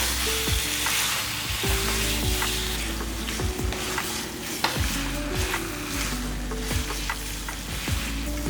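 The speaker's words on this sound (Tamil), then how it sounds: "இந்த சிக்கனை வந்து நல்லா ஒரு வாட்டி இந்த மாதிரி நல்லா கிளறிடணும்" Spiced chicken pieces sizzle in a hot pan while a spoon stirs and scrapes them in a quick repeated rhythm, the frying hiss loud and constant throughout.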